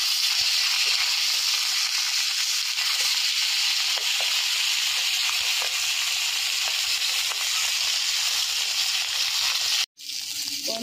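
Pieces of rui fish fry in hot oil in a kadai, giving a steady, dense sizzle and hiss that holds close and even before cutting off abruptly near the end.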